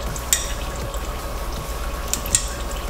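CVT fluid trickling from the transmission pan of a 2012 Mitsubishi Lancer into a drain pan, a steady soft liquid patter with occasional bright drips standing out near the start and end.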